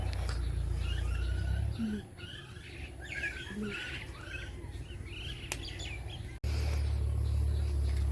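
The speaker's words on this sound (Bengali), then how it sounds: "আর কত পাখির শব্দ, ভালো লাগে।" Birds chirp and call among mango, jackfruit and olive trees seen from atop a building, scattered mid-distance calls over a steady low hum, with a brief break in the background noise.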